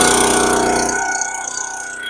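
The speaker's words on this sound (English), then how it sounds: "fuel on, choke. It's usually a 1 to 2 pull start." A small two-stroke chainsaw engine, just pull-started with the choke on for cutting fresh birch, runs loud and close with a rough, buzzing drone that eases slightly toward a steadier idle.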